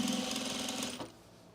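Sewing machine running a quick burst of topstitching on cargo pants, a close buzzing whir that stops abruptly about a second in, leaving near silence.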